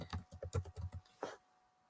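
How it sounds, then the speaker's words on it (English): Quick typing on a computer keyboard, about a dozen soft, close key clicks in a brisk run lasting just over a second, then silence. "So I'm just going to type that in as the name of the intervention."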